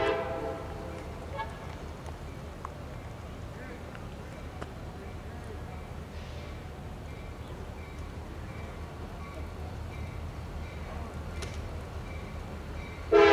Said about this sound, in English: Tropicana fruit train southbound